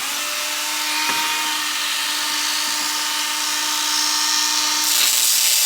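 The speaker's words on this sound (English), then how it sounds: "First thing we're gonna have to do is grind out these rivets with the Dremel." Dremel rotary tool grinding out rivets on the trunk latch assembly of a 2021 Tesla Model S Plaid, making a steady, high, continuous whine with a faint hum underneath. The sound is close and loud throughout, with no speech.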